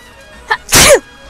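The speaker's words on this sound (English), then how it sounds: "I'm gonna sneeze." A person sneezes once, loudly and close by, in a short sharp burst with a faint breath just before it, heard alone without any talk.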